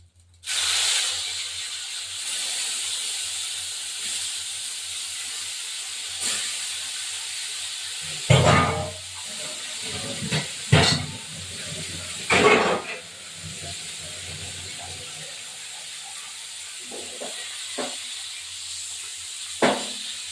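Pieces of soft Bhola fish drop into hot oil in a pan and set off a sudden loud hiss, which settles into a steady sizzle. Sharper spitting crackles burst through now and then.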